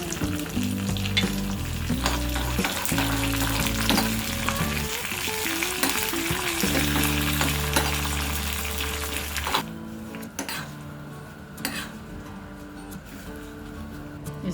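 Curry leaves and dried red chilies hiss and crackle in hot oil as a tadka for South Indian tomato chutney, a loud continuous close sizzle that settles and quiets somewhat toward the end, with no talk.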